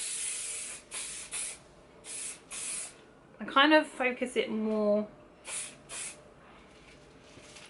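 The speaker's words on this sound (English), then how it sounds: "I kind of focus the hairspray more on the top rather than the ends of the hair" Hairspray from an aerosol can sprayed onto hair in short repeated hissing bursts, close and fairly loud, with someone briefly talking in the middle between sprays.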